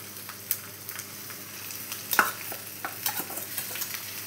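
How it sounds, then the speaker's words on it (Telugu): Tempering spices for a mango chutney crackle in hot oil while being stirred, a soft background fizz broken by scattered sharp pops and utensil scrapes up close. "మనకి పోపు చక్కగా వేగిపోయిందండి"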